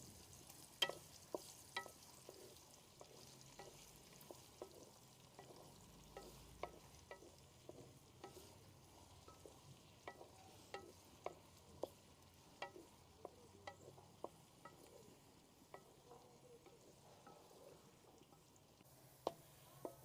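Two sliced onions frying with cumin in a pan until golden, a quiet continuous sizzle broken by regular sharp clicks and scrapes of stirring, with no voice.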